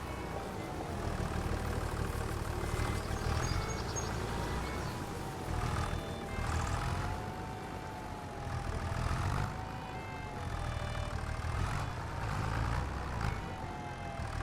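A tractor engine idles steadily in Farming Simulator 25, a continuous low droning rumble with a faint wavering whine above it, holding at an even level throughout with no talk.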